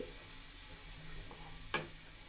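A mixed vegetable bhaji frying in oil in a pan, giving a steady close sizzle throughout with a faint clink or stir near the end, no voice present.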